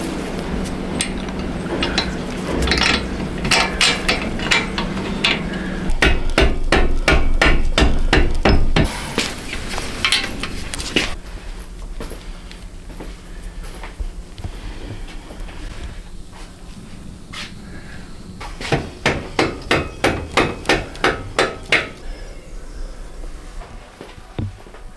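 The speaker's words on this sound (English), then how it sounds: "with a bit of grease on the bolts and a rubber mallet, we just tapped a few bits back into place" Rubber mallet tapping parts of a 1982 Honda XL 250R motorcycle back into its frame, with bursts of sharp, rapid knocks separated by quieter stretches and ringing metallic clinks, close and loud with no talk.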